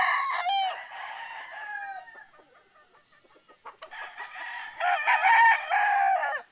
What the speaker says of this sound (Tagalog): Yan yung broodcock natin.